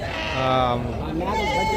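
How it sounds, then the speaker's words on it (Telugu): Large young male goats at the Gudur goat market bleat loudly and close by, a couple of drawn-out wavering cries with people's voices around them. "ఇక్కడ మేకలు పెద్ద సైజులోనే ఉన్నాయి"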